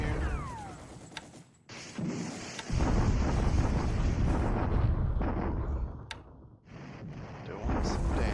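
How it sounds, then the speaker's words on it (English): Artillery bombardment in the War in the Pacific game, with heavy rumbling blasts and thunderous booms that roll on continuously with brief gaps, loud and dense throughout. "Bombardment here."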